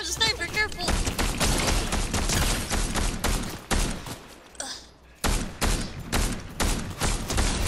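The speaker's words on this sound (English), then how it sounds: "Their AI is shooting me." Dense rapid gunfire from AI-controlled enemies in an online shooter game, bursts of automatic fire and shots crackling continuously and loudly, with brief lulls and excited players talking over it.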